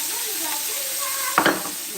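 Sauce simmering in a pan with a gentle continuous sizzle, broken by a couple of brief clinks and scrapes from a whisk near the end.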